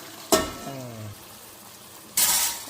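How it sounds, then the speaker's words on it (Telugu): Mutton pieces going into a hot pan for Karnataka-style mutton chops, with a sudden loud sizzling burst, a brief voiced sound in between, then a second sharp burst of frying hiss near the end. "ఇప్పుడు దీంట్లో మటన్ వేసేసుకోవాలి, జాగ్రత్త."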